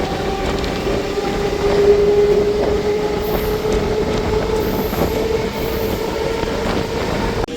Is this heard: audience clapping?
no